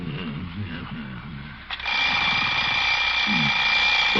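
An old-time radio show sound effect of an alarm clock rings, a loud continuous metallic jangle that breaks in abruptly after a stretch of talk and keeps going to the end.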